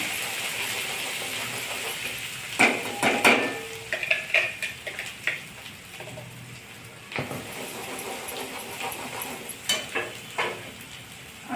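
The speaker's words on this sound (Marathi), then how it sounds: "मसाला त्यात घालणे कांदा खोबर टमाटा आलं लसूण अगदी तेलात छान परतून घेणे" A masala of onion, coconut, tomato, ginger and garlic is sautéed in oil for a green chickpea amti, with irregular clinks and scrapes of a spoon against the pan over a soft, steady sizzle nearby.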